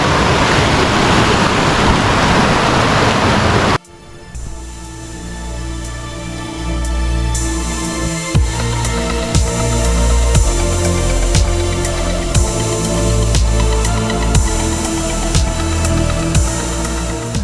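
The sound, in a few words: Cascade de la Pisse waterfall, 40 metres high, Alps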